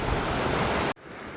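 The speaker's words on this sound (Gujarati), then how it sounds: "ખાસ તમે આ પાણી જુઓ કેટલું આવે છે આ બધું મારા કેળાનું પાણી આવે છે" Rainwater runs off a banana field into a stream after 50 hours of continuous rain, a loud, steady rushing wash of water that drops abruptly to a quieter flow just under a second in.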